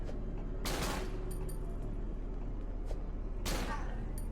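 Gunfire in the horror game Cry of Fear: two loud, sharp shots a few seconds apart with smaller cracks between, set against a constant rumbling background.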